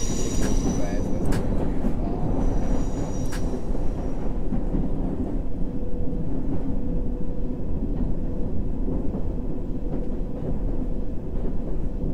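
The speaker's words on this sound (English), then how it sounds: "This train is ready to depart." A London Underground train from the simulator game World of Subways 3 rumbles along the track with a loud, continuous low roar, a few sharp high squeals early on, and no talking over it.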